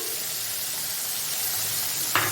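A cumin and coriander paste for chicken kofta fries in a pan with a soft, continuous sizzle, ending with a brief scrape or stir.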